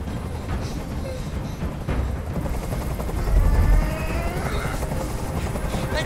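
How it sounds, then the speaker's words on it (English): A helicopter in the video game Detroit: Become Human gives a loud, continuous rotor roar, mixed with game noise and a swelling rumble near the middle. "I can't stand that noise anymore. Tell that helicopter to get out of here."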